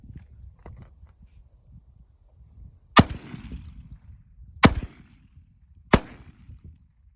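An Armsan RS-A2 shotgun firing 34 gram Sterling shells outdoors gives three loud, sharp blasts spaced about one to two seconds apart, each followed by a brief echoing tail over quiet surroundings.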